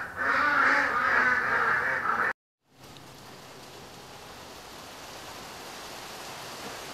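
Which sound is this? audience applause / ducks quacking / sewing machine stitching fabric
ducks quacking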